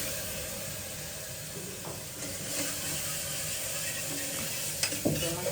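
Kashmiri chili powder frying in a pan for a Gujarati-style corn curry, a constant close hissing sizzle with occasional stirring scrapes and clinks toward the end.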